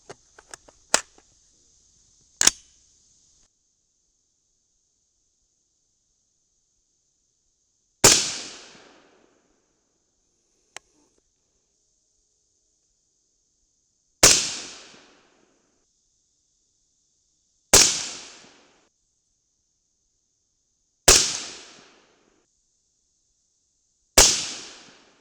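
A .223 rifle loaded with Vihtavuori N140 fires a slow series of sharp, loud shots, each a crisp crack with a short decaying tail, spaced several seconds apart, preceded by a few faint clicks and handling noises.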